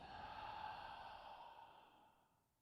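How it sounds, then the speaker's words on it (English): A long, deep breath is exhaled out through the mouth during a quiet yoga session, a soft, airy whoosh that starts full and gradually fades away. "Exhale out the mouth."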